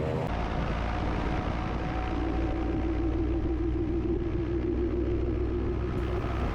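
An autogyro's engine drones and its rotor blades spin up for takeoff, giving a continuous close rumble whose pitch rises slightly, with no talk over it.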